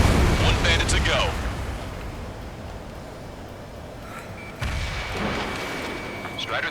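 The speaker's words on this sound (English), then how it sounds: "Strider 3 launching missile." A missile launches and blasts go off during an aerial dogfight in the jet combat game Ace Combat 7, with a deep rumbling boom, a quieter lull, then another heavy burst and whooshing jet noise.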